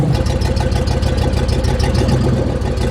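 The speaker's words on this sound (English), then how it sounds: "Idle seems light years smoother, guys, much smoother." An old motorhome engine idles steadily and loudly up close, a smooth continuous low rumble with an even pulse throughout and no talking.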